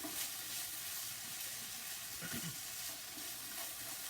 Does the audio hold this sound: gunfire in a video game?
no